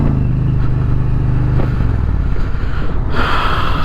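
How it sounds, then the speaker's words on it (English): A 2022 Indian Challenger Elite motorcycle in sport mode, ridden in the rain, its loud exhaust rumbling steadily up close with a brief rise in revs near the end. "Man, the exhaust is super loud on this bitch."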